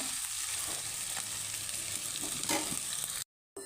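Chili powder masala stirred in a pan over low heat gives a soft, even frying sizzle with faint scraping, quiet and close, cutting out briefly near the end.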